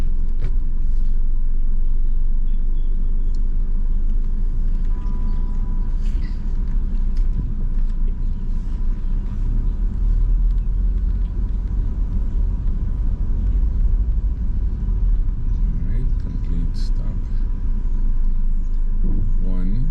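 A car drives on local roads during a Florida driver's license road test, with a steady loud engine and road rumble heard from inside the cabin throughout, while people talk over it.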